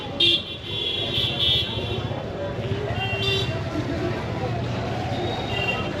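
Car horns honk on a busy market street in Gaya, India, with several short toots near the start and more later amid steady traffic rumble and people talking.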